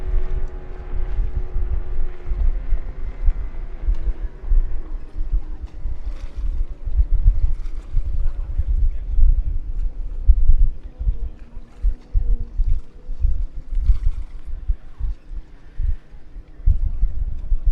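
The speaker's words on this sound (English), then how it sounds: "Beautiful little 15-foot Dancraft 130 two-stroke V4" A 15-foot Dancraft powerboat with a 130 two-stroke V4 Yamaha engine runs at a powerboat club race meeting, a steady low engine drone heard from a distance under wind noise.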